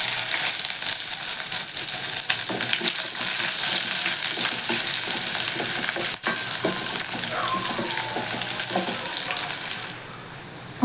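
Chopped onion frying in oil in a pan after mustard seeds have popped, for a brinjal fry: a steady, loud, close sizzle that runs without a break and drops a little quieter near the end.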